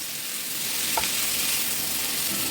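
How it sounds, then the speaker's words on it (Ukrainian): A steady, close sizzle of vegetables frying in a pan over medium heat, with a soft stirring scrape about a second in. "смажимо на середньому вогні"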